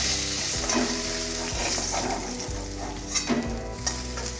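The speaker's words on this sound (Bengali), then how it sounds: "আমার মাছ ভাজা হয়ে গেছে। আমি এবার একে একে মাছগুলোকে তুলে নিচ্ছি।" Small hilsa fish sizzle in hot oil in a pan while a utensil stirs and lifts them out one by one, with continuous close frying hiss and occasional scraping clinks.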